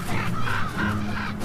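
Ravens call near a wolverine in snowy far-north wilderness, giving several harsh, hoarse croaks in quick succession, fairly close and clear.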